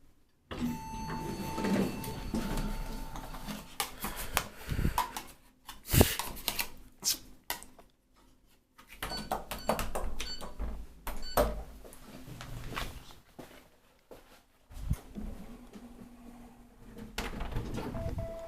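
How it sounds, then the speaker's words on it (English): Traction elevators in a Gothenburg hotel arriving, with a series of mechanical clunks, thuds and sliding door movements spread across the clip, separated by quiet gaps and faint background hum. "I think this elevator is coming."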